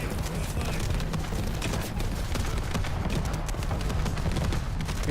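Rapid, dense barrage of game explosions in The First Descendant, a continuous rumbling rain of blasts filling the clip at steady loudness, with voices faintly mixed in underneath.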